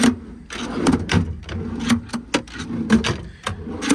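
CTech drawers in a 2018 Ford F750 extended-cab truck body, slid open and shut one after another, giving a quick series of sharp knocks and rolling slides that land close and fairly loud.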